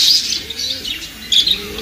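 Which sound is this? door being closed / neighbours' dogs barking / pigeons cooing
pigeons cooing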